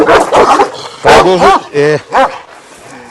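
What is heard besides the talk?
dog barking, Kangal cross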